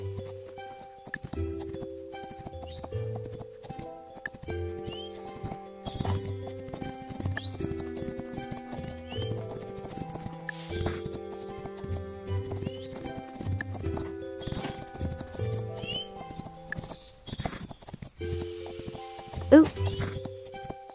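A horse in the Rival Stars video game gives steady rhythmic clip-clop hoofbeats with occasional whinnies and neighs, set against light game music and close, clear effects.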